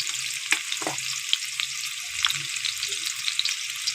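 Potatoes seasoned with salt and turmeric sizzle steadily in a pan, a continuous close hiss broken by a few louder pops and the occasional scrape of stirring, with no talking.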